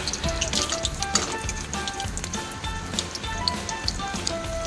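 Piyaji onion fritters sizzle steadily in hot oil, a close, continuous crackling fry with small pops throughout.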